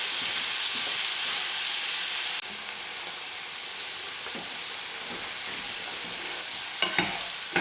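Onions and sauce for Salisbury steak simmering in a pan over low heat, a steady hissing sizzle that drops slightly in level partway through, with a few faint utensil taps near the end.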